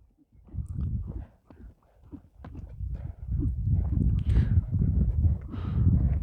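A tall horse, over 1.6 m, used for ulak games in Suusamyr, walks with a steady rhythm of close hoof clip-clops that grow louder and more continuous after a brief lull.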